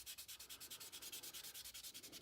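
Model car body, a '66 Nova, sanded with a roughly 600 grit sanding stick, a quiet close rhythmic rasping of fast even strokes, about eight per second, with no talking.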